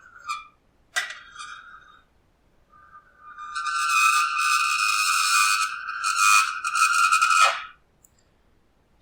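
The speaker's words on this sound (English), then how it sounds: "And then the rake on the chalkboard." A metal rake dragged across a chalkboard for sound design gives shrill squealing screeches, a few short ones first and then a long, loud sustained squeal that cuts off abruptly.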